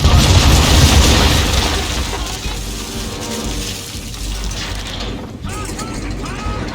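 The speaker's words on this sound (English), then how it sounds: "Bring around broadside, and when all guns are on target, call fire." Naval cannons fire a broadside from a ship in Assassin's Creed 3, with loud booming blasts and mechanical clatter at the start. The rumble then fades into a sustained noisy wash, with a voice briefly audible.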